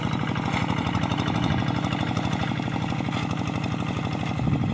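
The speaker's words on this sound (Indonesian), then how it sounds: "melakukan pembajakan sawahnya menggunakan hand traktor" Hand tractor engine ploughing a tidal-swamp rice field, a loud steady rapid chugging thump from close by, running continuously without a break and with no talk over it.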